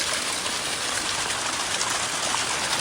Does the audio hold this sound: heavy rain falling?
yes